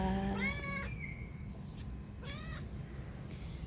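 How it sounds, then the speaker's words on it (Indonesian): A cat meows a few times nearby in a garden in the morning, drawn-out rising cries with a pause between them, over a low background hum. "Udah meong-meong aja padahal udah makan."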